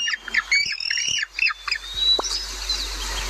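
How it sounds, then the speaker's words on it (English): A penguin calls in several loud, braying squawks with honking upper tones in quick succession, close and clear over a low background rumble, with no talking. "Penguin!"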